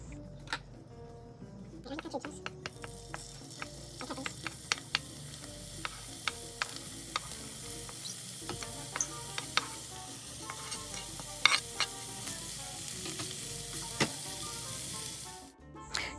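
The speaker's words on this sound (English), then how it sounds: "So I'm going to start frying up my peppers, my onions, and my garlic." Peppers, onions and garlic sizzling and frying in a hot pan, a steady crackle with occasional sharp pops and scraping stirs, voices faintly in the background.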